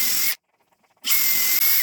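A power drill bores holes in wood for a garden chair: a loud, high whirring burst, a brief pause of near silence with faint handling sounds, then the drill starts again with a short hitch near the end.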